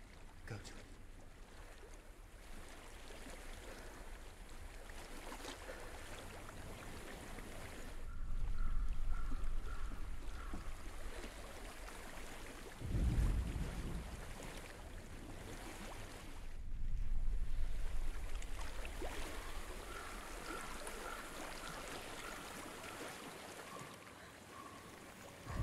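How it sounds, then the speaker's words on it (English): Water flows and rushes continuously in the Hellblade: Senua's Sacrifice video game, a broad washing sound that swells and ebbs like surf, with gusty wind-like rumbles and a few low thuds. "I hear water."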